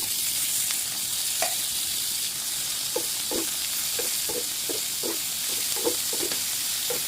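Onion, tomato and capsicum sautéing in a pan with a steady sizzle, broken by a run of short scraping stir strokes in an uneven rhythm, close by and without speech.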